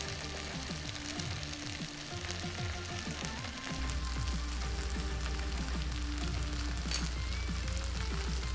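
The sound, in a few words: kimchi fried rice toasting in a pan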